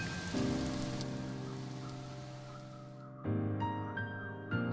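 Steady rain falls from the visual novel game Asagao Academy, a soft continuous hiss beneath sustained background music that shifts partway through.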